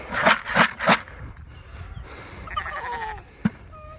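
Three loud, wavering animal bleats in quick succession, then quieter outdoor rustling and a brief thump near the end.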